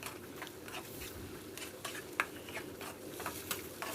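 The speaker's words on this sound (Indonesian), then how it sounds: "Saya aduk-aduk kembali supaya semuanya matang dengan sempurna" Green beans and rice vermicelli filling for pastel being stirred in a pan, soft scraping and light sizzling with a few sharp utensil taps against the metal, close and fairly quiet.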